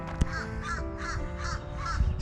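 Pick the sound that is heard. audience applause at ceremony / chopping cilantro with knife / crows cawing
crows cawing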